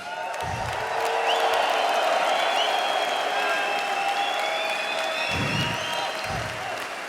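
Loud, continuous applause from a large crowd at an arm wrestling event fills the whole stretch, with scattered cheers and whoops rising over a dense wash of clapping.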